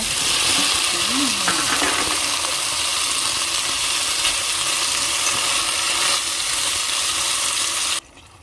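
Sponge gourd (patola) sautéing in a pan, hissing and sizzling loudly and steadily, with a few faint clinks early on, until the sound cuts off abruptly near the end.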